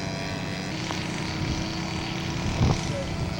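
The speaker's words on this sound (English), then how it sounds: "Down and dirty flyby for Jeff Foley." Radio-controlled scale model aircraft making a low flyby at a scale aircraft show, a continuous droning propeller engine with a slight swell near the end, heard amid outdoor background noise.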